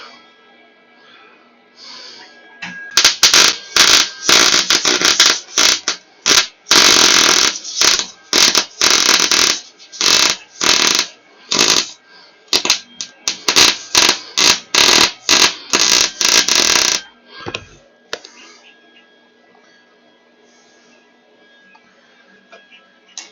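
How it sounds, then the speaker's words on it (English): Welding on the front caster wheel bracket of a Wright Stander mower comes as loud crackling, buzzing bursts of arc welding in repeated pulses of a second or two, close up, with a low hum before and after. "May not be the prettiest of welds, but I build it up so it covers more area and should make it stronger"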